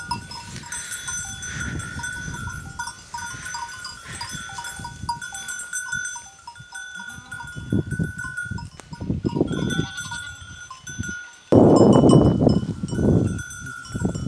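Sheep bleat now and then amid a steady farm ambience, with a rustling, busy background and a louder burst of noise near the end.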